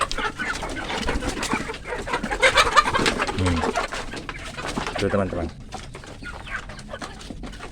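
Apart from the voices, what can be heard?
chickens eating and clucking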